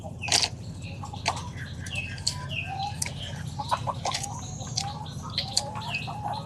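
Layer hens on a Bangladeshi poultry farm cluck and chatter busily over a steady low hum, with occasional wing flaps and high chirps mixed through the flock.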